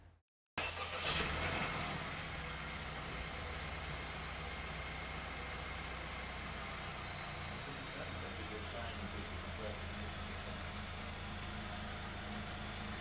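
A 10th-generation Honda Accord engine catches after a brief silence with a short start-up burst, then settles into a quiet, steady, low idle hum.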